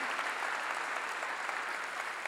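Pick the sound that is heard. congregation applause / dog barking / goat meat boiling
congregation applause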